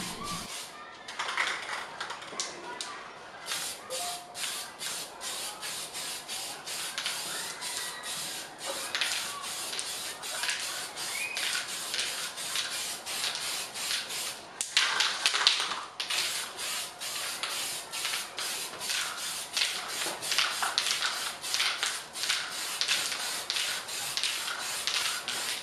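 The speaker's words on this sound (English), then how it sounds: "let's get started on spraying this first top coat protection layer" Rapid, repeated hissing bursts of a spray gun applying a lacquer top coat to furniture painted black, pulsing steadily and close by, with brief pauses between passes.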